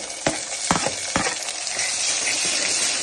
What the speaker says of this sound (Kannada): ಟೊಮೊಟೊ ಹಾಕೊಂಡು ಚೆನ್ನಾಗಿ ಶಫಲ್ ಮಾಡಿಬಿಡಿ